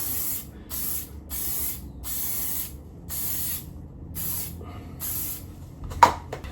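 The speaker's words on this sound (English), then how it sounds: "spray it a couple of times." An aerosol hairspray can fires a rhythmic series of about seven short, close hissing bursts onto an Elvis-style hairdo, each separated by brief silences, with a small clatter at the end.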